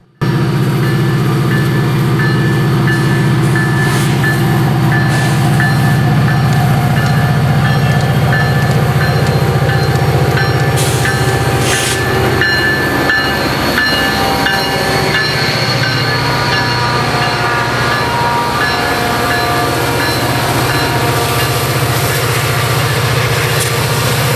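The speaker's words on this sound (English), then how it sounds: "Our first would be an RCO yard job with an EMD SD40-2" An EMD SD40-2 diesel locomotive works a remote-control yard job at Galesburg, Illinois, in winter: a steady loud engine drone with tonal hum runs throughout, joined by rail wagon rumble and occasional wheel squeal, with no talk.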